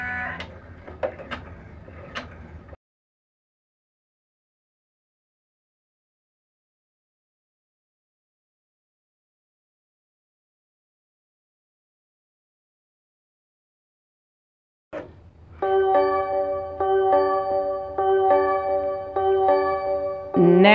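A home embroidery machine stitches a placement line for an in-the-hoop diaper wipes case, its steady, rhythmic needle chatter starting up loud and close after a long silence, with brief handling sounds at the start.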